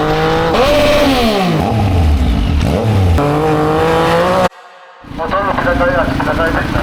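A Yamaha MT-09 motorcycle fitted with an aftermarket exhaust roars loudly close by, its revs rising and falling in sweeps, then briefly cutting out before the engine picks back up.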